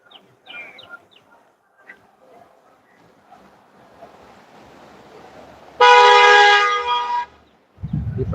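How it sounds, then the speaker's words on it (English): Car horns honk on a road blocked during a street protest in Austin: a loud, sustained blare of about a second and a half stands out over faint street noise, with scattered softer sounds around it. "People are honking at people because the road's blocked"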